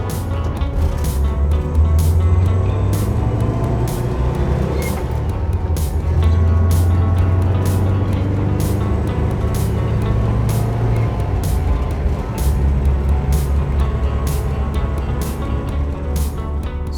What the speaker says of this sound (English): So the car pulls away from stop signs pretty nicely. It is a dual carbureted engine.